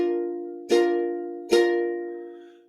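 A ukulele half-barre movable chord, pressed down firmly, strummed twice about a second apart, each strum ringing out bright and close before slowly decaying, with no talking.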